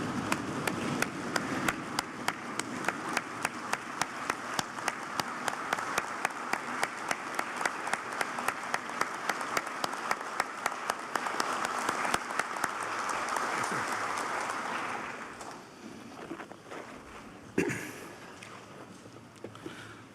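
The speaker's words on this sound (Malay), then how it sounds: "marilah bersama-sama dengan beta untuk berdiri dan memberikan tepukan yang gemuruh kepada semua wira dan wirawati petugas barisan hadapan negara" Thunderous standing ovation in a parliament chamber during a state opening ceremony, dense rapid clapping from a large seated assembly sustained for about fifteen seconds before tapering off into scattered claps and room murmur.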